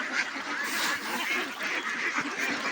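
Ducks gathering to feed on rice paddy grain, a dense chorus of overlapping quacks and honks from a flock close by, continuous throughout.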